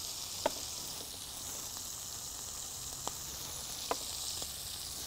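Shrimp seasoned with paprika, chili and ginger powder fry in a pan with a faint, steady sizzle and hiss, marked by a few soft clicks as pieces are turned, with no talking.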